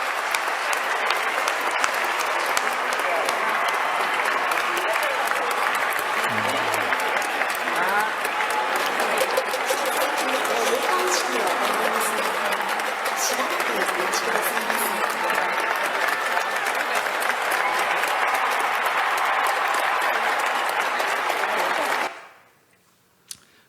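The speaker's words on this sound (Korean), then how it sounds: "박수로 격려해 주시기 바랍니다." A church congregation applauds in a long, steady, dense burst of clapping that holds evenly for over twenty seconds, then cuts off abruptly into near silence.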